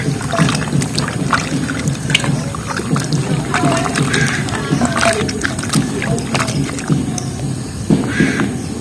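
Hands rub jackfruit seeds together in a bowl of water to strip off their skins, making a close, continuous gritty swishing and clattering with splashy bursts.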